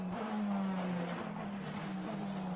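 Formula Renault Eurocup race car at Zandvoort dropping down through the gears into Tarzan corner, a steady loud engine drone with shifting pitch, continuous and close throughout.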